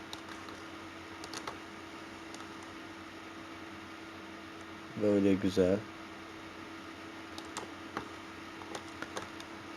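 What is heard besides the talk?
computer keyboard key presses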